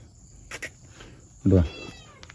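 A cat at a resort gives a single short, fairly loud meow near the end, with crickets chirping faintly in the background and brief soft noises before it.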